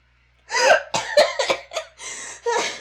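A woman breaks into a burst of harsh coughs mixed with breathy laughter, several quick bursts close to the listener, with short gasps between them.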